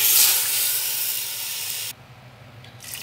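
Steam hisses loudly and steadily from a pressure cooker of mutton haleem, cuts off abruptly partway through, then returns briefly near the end.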